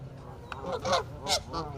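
Geese honking and ducks calling at a campus duck pond, several loud, nasal honks in quick succession, close by and mixed with softer bird chatter.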